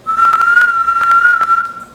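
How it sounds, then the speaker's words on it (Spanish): A person whistles a single sustained, steady tone into a microphone for about two seconds, close and clear, with slight wavering. "Ahí estoy silbando"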